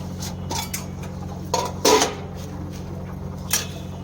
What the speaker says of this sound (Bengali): শাকটা দিয়ে ভালো করে নাড়াচাড়া করা হচ্ছে।